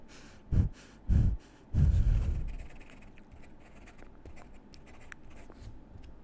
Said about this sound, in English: I'm just gonna write down something on here.